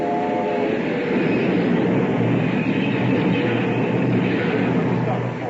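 A train runs steadily as a radio drama sound effect, a loud continuous rumbling roar with a faint whistle-like tone near the start, filling the whole stretch without pause.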